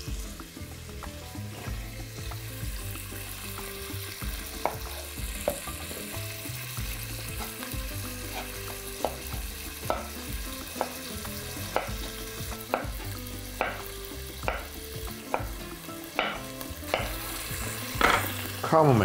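Beef heart and sliced onion frying in a pan, a steady loud sizzle broken by repeated sharp scrapes and clatters of stirring that grow more frequent toward the end, with no one speaking.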